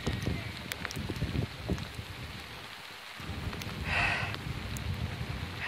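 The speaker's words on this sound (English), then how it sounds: "It's still hailing." Heavy hail and storm pelting down, a dense, steady patter of hits on surfaces with a brief lull midway and a louder burst near the end.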